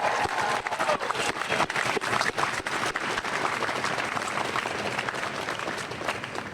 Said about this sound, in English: Let's give Denise a great round of applause.